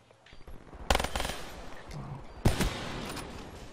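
Two loud, sharp sniper rifle shots in a first-person shooter video game, the first near the one-second mark and the second about one and a half seconds later, each with a brief ringing tail over low game background noise.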